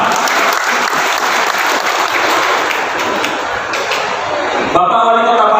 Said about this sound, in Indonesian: Tepuk tangan untuk Batam.